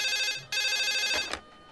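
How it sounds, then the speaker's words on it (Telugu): A telephone rings indoors in two close, loud electronic bursts: a longer trill, a brief break, then a second ring that cuts off, with no talking. "ఏమండోయ్, ఫోన్"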